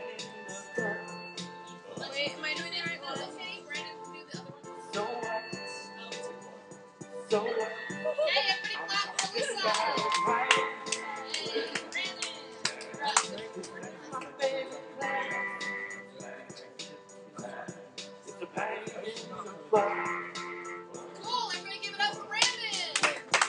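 A high school algebra class claps in a classroom, scattered and uneven hand claps with taps and kids' chatter mixed in throughout.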